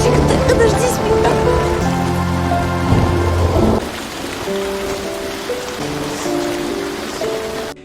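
Heavy rain pours in a forest, and deep thunder rumbles loudly over the constant hiss of the downpour. Sustained musical tones run above the storm.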